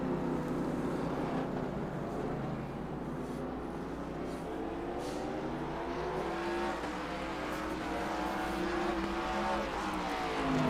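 Race cars of the Top Flight Computers National Series at the 2020 Mid-Ohio event roar steadily, their engine tones rising and sliding as they duel through corners and down a hill, a loud continuous blur of motors with no talk.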